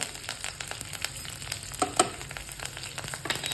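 Fenugreek seeds, curry leaves, asafoetida and turmeric hit hot oil for a Maharashtrian ridge gourd amti, giving a steady close crackling sizzle with scattered sharp pops and a couple of louder spatters, no voices.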